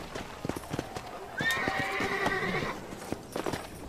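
Horse hooves clip-clopping in the Red Dead Redemption video game, a series of close, evenly spaced hoof strikes with a horse whinny or snort rising in the middle.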